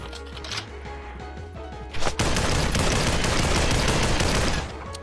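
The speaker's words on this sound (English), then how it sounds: "I missed every shot, bro." A loud, sustained burst of rapid gunshots from the VR battle royale Population One erupts after a quieter stretch of scattered shots, dense and close, with no talking.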